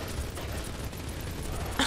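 Gunfire in the block-building game Mini World: Block Art, a dense, steady rattle of rapid shots with a sharper burst near the end.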